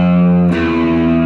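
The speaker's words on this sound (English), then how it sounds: "Turn on some distortion" An electric guitar played through heavy distortion rings out loud and close, a sustained chord that shifts to a new chord midway before cutting off abruptly.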